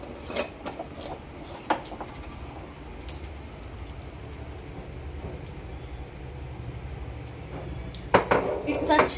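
Whipped coffee is stirred into milk. A spoon clinks against a glass in scattered taps, then in a louder burst of rapid clinks near the end, over a low rumbling background.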